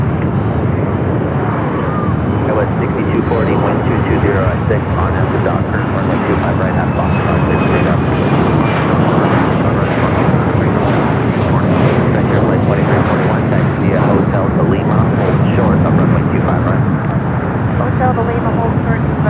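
Fixed-wing jet airliner engines roaring at a LAX runway, a loud, sustained broadband rumble throughout, with an air-traffic radio voice talking over it.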